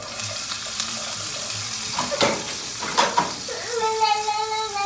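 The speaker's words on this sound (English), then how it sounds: "So now I got the sausage and onion in there, and we're letting that cook a little bit." Sausage and onion frying in a pan at brunch, a steady close sizzle with a few clattering stirs and a brief scrape, while a tonal hum rises near the end.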